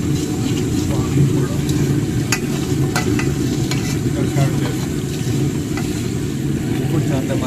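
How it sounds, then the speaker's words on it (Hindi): Spice mix frying in a pot during outdoor cooking after a dove hunt, a dense steady sizzle with occasional light stirring clicks, under a continuous low rumble like an idling engine. "एक दफ़ा अच्छी तरह से मसाला भून लें"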